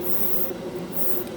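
A cordless battery-powered airbrush sprays paint as a steady, close, continuous hiss with a faint pump hum beneath, uninterrupted throughout.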